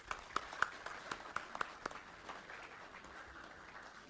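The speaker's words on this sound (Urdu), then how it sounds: "تو اس کے لیے تالیاں تو بجائیں نا" An audience clapping at a university talk on Innovative Lyallpur, with scattered, faint claps irregularly spaced over a few seconds rather than a full burst of applause, heard alone without talk.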